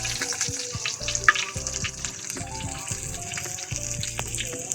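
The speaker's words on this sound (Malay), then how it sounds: "kita tumis dulu" Fish and other ingredients stir-frying in a pan for a coconut-milk fish and Ajinomoto-leaf dish, a steady close sizzle with clinking stirring strokes and faint water sounds, no talking.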